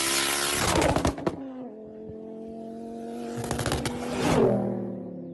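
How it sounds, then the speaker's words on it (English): A Mazda RX7 rotary engine revs twice, and after each rev a turbocharger whine winds down in a descending tone. The sound is fairly close and moderately loud, with a quieter pause between the two bursts. "I can still hear that turbo going down. It sounds like a police car."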